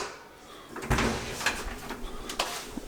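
A few close mechanical clicks and a metallic clunk of a front door lock turning, in quick succession against a quiet room.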